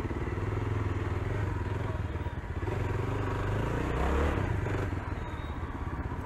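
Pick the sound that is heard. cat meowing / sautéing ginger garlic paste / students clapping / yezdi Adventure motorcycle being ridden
yezdi Adventure motorcycle being ridden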